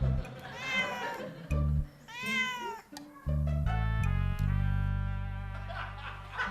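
A cat meows several times in a row, close and loud, with drawn-out, rising and falling calls separated by short pauses and one longer wailing cry near the end.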